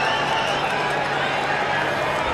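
A stadium crowd of Winnipeg fans at a CFL football game against the BC Lions keeps up a dense, constant roar that stays loud and unbroken.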